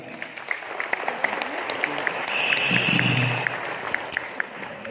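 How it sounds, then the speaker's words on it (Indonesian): Steady applause from a crowd at an umrah travel event, a dense patter of clapping that swells briefly in the middle before settling. "Tepuk tangan."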